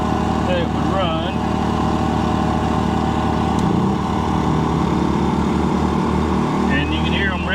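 A Harbor Freight Predator 2000 generator running a camper's air conditioner revs up under load, a steady loud engine drone with layered harmonic hum that shifts and rises partway through, continuous and close.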